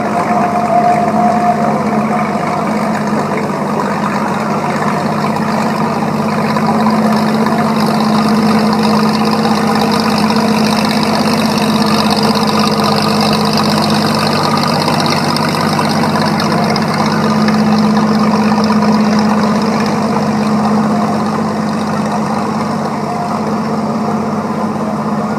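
A vintage farm tractor running on propane idles at a parade, its steady mid-low engine drone holding even and continuous throughout with no talk over it.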